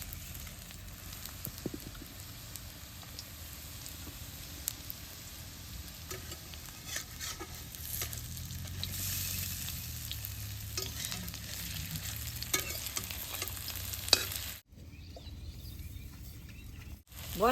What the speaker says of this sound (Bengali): বড়াটি নাল করে ভাইজা নিছি, এখন উঠিয়ে নেবো।